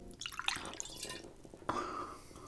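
Liquor poured into a shot glass held close to the mic, a short run of bright trickling and dripping that stops, then a fresh splash and steady pour near the end.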